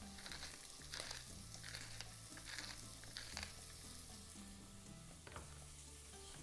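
Food sizzles and crackles in a hot frying pan while it is stirred, a faint, constant hiss broken by soft scraping and clinking strokes.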